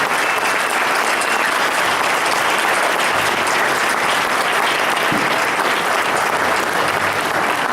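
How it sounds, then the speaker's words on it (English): A concert audience at a high school and university pops concert bursts into sustained, enthusiastic applause, dense clapping filling the whole stretch without pause. "Let's give another round of applause for Dr. Sue Cressa, Jenny Hickle, Roosevelt"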